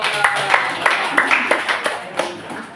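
A small group claps at a school training session on positive school culture, irregular thin claps and taps scattered over a few seconds with some background voices.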